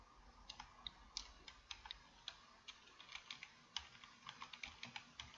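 Fingers type on a computer keyboard, producing a quiet, uneven run of sharp key clicks in quick bursts with short pauses, close up and with no talk.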